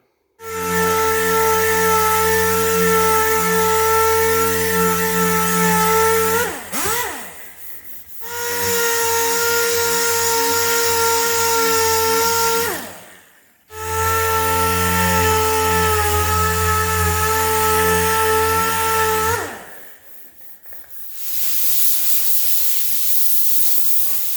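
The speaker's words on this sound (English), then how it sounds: "So I'm going to get this sanded here now." A tool sands the body of a 1966 Ford Mustang with a loud, steady, hissing whine that runs in three long stretches, each followed by a short pause, with no talk.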